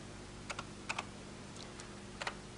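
Typing on a computer keyboard from a 1983 home computer setup: a few short bursts of key clicks, paired taps spaced across a quiet room with steady low hum beneath, fairly faint and close.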